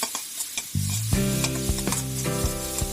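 Minced pork with holy basil is stir-fried dry in a pan without oil. A spatula clatters and scrapes rhythmically against the pan over a steady, close sizzle.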